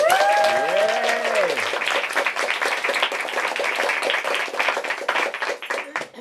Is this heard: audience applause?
yes